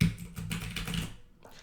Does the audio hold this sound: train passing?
no